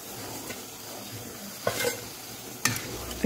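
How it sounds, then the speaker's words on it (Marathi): Onion and potato bhaji frying in hot oil: a soft steady sizzle with brief louder bursts as pieces are stirred or turned, close by, no talking. "भजी तळताना आपण एकदाच नाही तळून घ्यायची"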